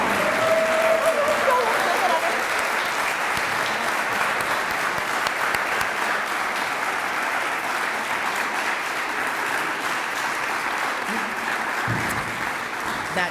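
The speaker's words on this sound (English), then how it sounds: "if we could just give one more round of applause to our graduates to be" A crowd applauds graduates at a stoling ceremony, with steady, dense clapping that fills the room and carries on unbroken for the whole stretch.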